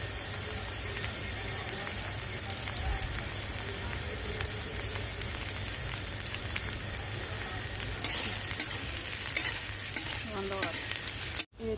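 Onions fry in a pan for poha in a dense, continuous sizzle with a low rumbling hiss and fine crackling. The sound stays steady and close throughout, with a brief sharp knock near the end and no talking.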